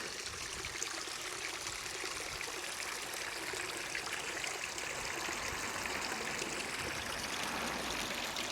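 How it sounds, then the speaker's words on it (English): A stream of flowing water babbles and trickles steadily nearby, a constant bright gurgle with no talking. "Nice sound of water."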